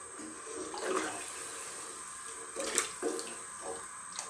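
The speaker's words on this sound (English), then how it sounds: "Then we're going to go in with some liquid. I'm using just water." Water is poured into a pot of homemade West Indian chicken noodle soup, giving a steady close splashing and trickling wash with a few louder gurgles.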